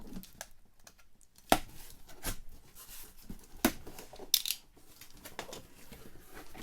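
A knife slicing open a cardboard shipping box holding Star Wars Black Series and Vintage Collection figures: quiet scraping with a few sharp snaps and tearing bursts, close and intermittent.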